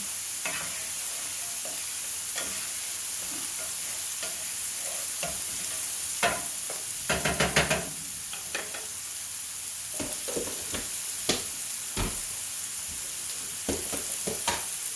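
Carrots and other vegetables stirred in a frying pan for a sausage gravy breakfast, a continuous sizzle broken by irregular scraping and clattering of the utensil against the pan, with a brief busier burst of stirring midway.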